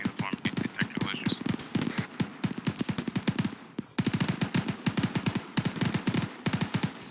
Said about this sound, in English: I'm hearing a lot of shooting